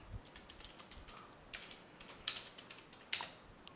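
Soft, irregular keystrokes on a computer keyboard while an SQL query is entered, quiet clicks scattered throughout with a few sharper taps standing out.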